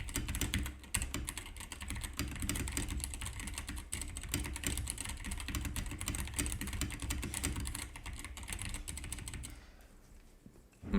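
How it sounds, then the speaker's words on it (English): Close, steady clatter of keys on a computer keyboard, recorded through a budget USB microphone, runs continuously for about ten seconds before trailing off into quieter room noise at the end. "now it is time for keyboard and mouse test"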